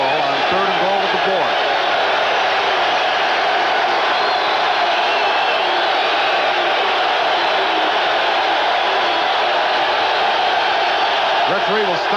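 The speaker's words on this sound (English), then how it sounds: "Referee will stop the play because the crowd noise is too loud." A Patriots football stadium crowd in New England roars in a loud, sustained wash of noise that never lets up, with a commentator's voice running over the din.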